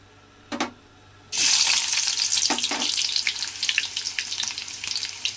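Chopped onions hit hot oil in a pan for village-style cucumber chutney, bursting into a loud, steady sizzle that continues to the end after a couple of brief clinks.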